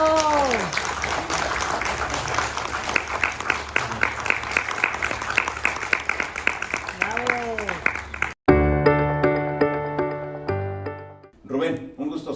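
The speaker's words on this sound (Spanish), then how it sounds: "Un aplauso." Audience applause fills the room at an event honoring Rubén Manrique Álvarez, a dense steady clatter of many hands lasting about eight seconds. It stops abruptly, and a short burst of tonal music follows.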